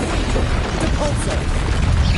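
Depulso spell being cast in a Harry Potter video game, a loud, dense booming blast with crackling texture that fills the whole moment continuously, close and forceful, with a voice underneath.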